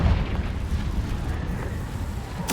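A Confringo spell explodes in the video game Hogwarts Legacy, giving a loud, sustained rumbling boom with heavy low-end roar that persists throughout and ends in a sharp burst.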